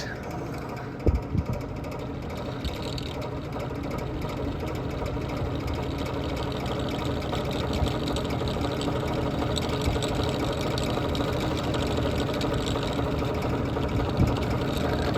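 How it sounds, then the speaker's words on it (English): A vintage box fan runs on high during an airflow test, giving a steady, close whirring drone with a faint rhythmic mechanical flutter, while someone speaks briefly over it. "Now this fan is very, very strong, so it should have no problem getting the airflow tester up to speed."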